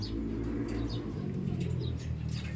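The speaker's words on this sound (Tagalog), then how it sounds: "ito na ibon natin, mga abel" A pet racing pigeon arriving at its loft, giving soft low coos and a few faint chirpy calls over a steady low background hum, close by.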